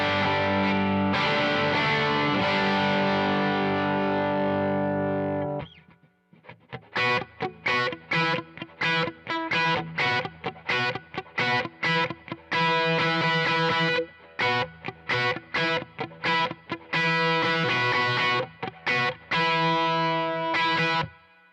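Electric guitar run through an Analogman King of Tone pedal on its overdrive side, first a held, ringing chord, then choppy strummed chords and short riffs with a warm, mildly crunchy drive, loud and close with no voices.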